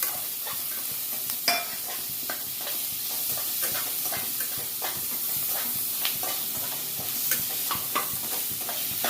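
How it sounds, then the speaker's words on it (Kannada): Chickpeas, cinnamon, cloves and poppy seeds fry in hot oil for a bottle gourd sambar, making a loud, continuous sizzle with repeated scraping stirs of a spoon. "ಇದಕ್ಕೇನೆ ಕಡಲೆ, ಚಕ್ಕೆ, ಲವಂಗ ಹಾಗೂ ಗಸಗಸೆನ ಇದ್ರ ಜೊತೆನೆ ಹಾಕೊಂಡು ಫ್ರೈ"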